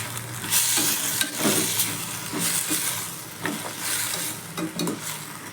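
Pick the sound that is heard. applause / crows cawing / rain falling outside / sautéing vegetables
sautéing vegetables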